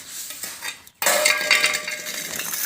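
Crockery being scrubbed by hand with a mix of charcoal powder and detergent powder: a short pause, then steady, loud scrubbing and clinking of dishes that goes on without a break.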